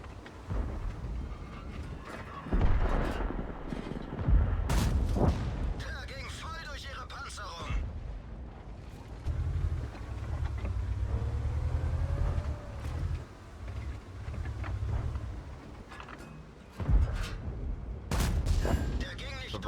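Tank cannon fire and explosions from a video game crack out in several sharp bursts between stretches of low rumbling engine noise, with someone talking over the action.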